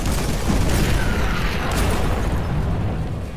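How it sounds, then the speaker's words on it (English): An explosion in StarCraft II: a loud, sustained rumbling blast roars continuously and slowly tapers, with a game-like crunchy boom texture. "An explosion."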